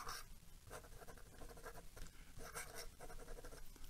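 Pilot Falcon fountain pen nib writing on paper, a soft scratchy sound in quick strokes with large flourishes, close and quiet with no talk.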